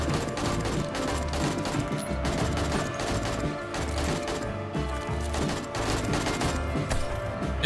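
An automated turret in the 7 Days to Die video game fires at zombies, a dense, continuous stream of rapid shots with crashing impacts layered over a busy background.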